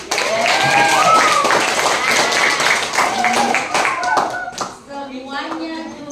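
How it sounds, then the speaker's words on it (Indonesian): Students clap their hands at a school orientation event, the claps ragged and close, with talking over them and a few tapping thuds as the clapping thins toward the end. "Tepuk tangan dong akuntansi."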